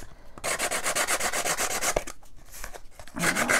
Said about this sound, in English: this is just a nail file from the dollar store